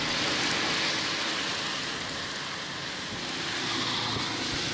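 Steady rain pours down over Karachi, a dense, even hiss of falling water that holds at a constant loudness throughout with no voices.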